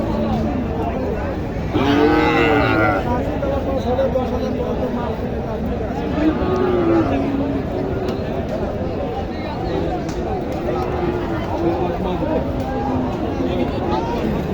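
A Sahiwal cross bull lets out several low moos at a busy cattle market, heard over steady crowd chatter and nearby talking.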